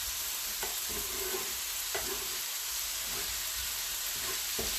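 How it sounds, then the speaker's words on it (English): Chicken and beef taco filling fries in a pan with a constant loud sizzle and hiss, while a few spaced scrapes of a utensil mark the stirring; no voices are heard. "let me give this a stir so we're not burning this dude up."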